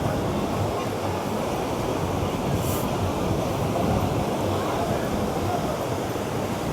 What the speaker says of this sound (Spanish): Está bravo el océano hoy.